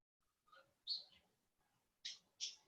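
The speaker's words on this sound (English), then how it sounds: "Listen to the bird." Birds chirp outdoors, giving a few short, thin calls in an uneven pattern that sound faint and distant against near silence.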